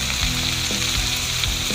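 Mustard greens coated in egg fry in hot olive oil with a loud, steady, close sizzle and crackle. A few soft clinks of stirring come through, and no one speaks.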